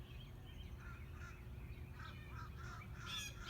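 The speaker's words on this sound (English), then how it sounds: "As crows fly by in the background." Crows cawing in the background, a series of faint, hoarse calls repeating irregularly at a distance over a low outdoor rumble.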